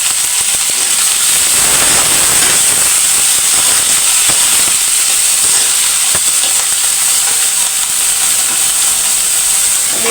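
Chopped cauliflower, carrots and potatoes go into a hot pan for noodles and sizzle loudly and steadily at close range, with a constant frying hiss and occasional stirring scrapes.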